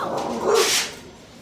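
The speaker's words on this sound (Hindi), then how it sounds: "यहाँ बिल्ली आई ना बाहर, तो उसको भौंक रही है।" A mixed-breed Labrador gives a single short, close bark at a cat outside, over faint background noise.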